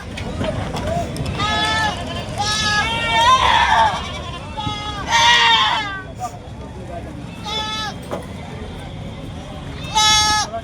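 Goats bleat repeatedly at a crowded goat market in Patna, several wavering calls rising close by over a steady murmur of people talking and general market noise.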